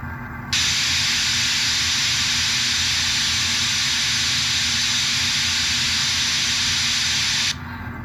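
A loud, continuous steam hiss sound effect from a Bachmann Spectrum 4-4-0 model locomotive starts abruptly, holds steady for several seconds, then cuts off, with a low mechanical rumble beneath.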